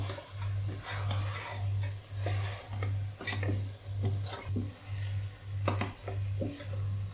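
Mutton pieces being stirred into cooked masala in a pot, with soft scraping and clinking of a utensil against the pot, all under a steady low hum.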